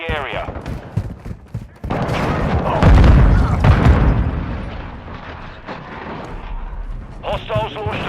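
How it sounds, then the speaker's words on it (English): Cruise missile strike in Call of Duty: Modern Warfare 2 on PC, loud booming explosions and gunfire rumbling continuously with a heavy blast building in the middle, under game radio voices. "Hostiles launched a cruise missile."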